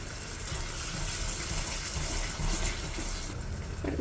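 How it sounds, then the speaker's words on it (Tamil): Water from a grinding jar poured into a coconut, fennel and cashew gravy cooking in a pan, a steady rushing splash and bubbling that continues throughout, fairly close and loud. "இதில் இந்த அரைச்ச அந்த ஜாரில் இருக்கிற கொஞ்சமாக தண்ணி சேர்த்து இதில் கலந்துக்கிறேன்"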